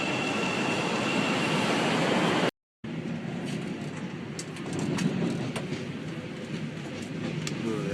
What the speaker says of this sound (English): About to ride the Metro Loop.